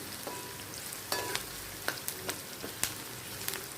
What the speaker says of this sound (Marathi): आपल्याला थोडा कांद्याचा कलर चेंज होतपर्यंत परतवून घ्यायचं आहे, हलकं गोल्डन